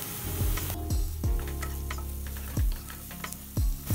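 Onion frying in a pan for boiled egg bhurji gives a steady sizzle, broken by several sharp knocks and scrapes of a spoon against the pan at irregular intervals.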